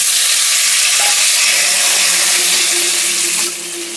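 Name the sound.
green mango pieces frying in hot mustard oil with mustard seeds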